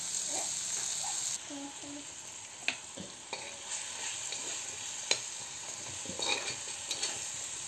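Chopped onion and tomato roasting in a pan for an okra and potato curry, giving a steady low sizzle with scattered clicks and scrapes of stirring, moderately close.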